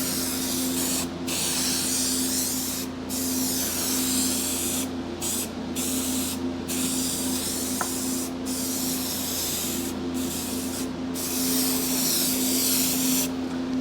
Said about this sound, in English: So we'll spray the foam.